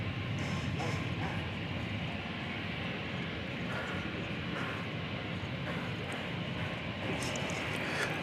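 A Lufthansa airliner bound for Frankfurt at DFW airport, heard as a steady, broad jet-engine roar from a distance that holds at a constant level throughout.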